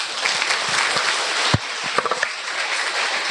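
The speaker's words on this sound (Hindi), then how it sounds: "ताली बजाकर भाइयों का स्वागत।" An audience at a stress-relief camp claps to welcome people, a dense, sustained round of applause from many hands with a few sharper individual claps standing out.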